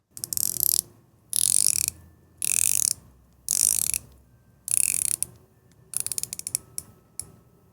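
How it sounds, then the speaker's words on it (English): A WM Watches WM157 dive watch bezel is rotated in about six bursts of fast, light ratchet clicking with pauses between turns. It is recorded very close to the mic, with no talking. "I'm a fan of that bezel action. It's not the chunkiest click you've ever felt"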